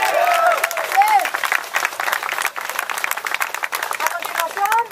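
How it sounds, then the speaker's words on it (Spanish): A crowd claps and applauds energetically, a dense patter of hands filling the room, with shouted voices and cheers over it. "¡Un aplauso para ustedes!"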